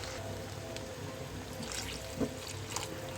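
One and a half cups of water poured into a pan of aloo tamatar salan, a quiet continuous trickling and splashing with a couple of small clinks, faint and close.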